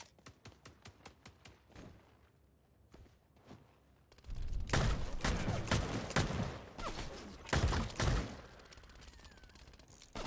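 Dense gunfire in the vampire battle-royale game Vampire: The Masquerade - Bloodhunt, a few scattered shots first, then a loud sustained barrage of rapid bursts and impacts that swells and fades in waves, with no talking.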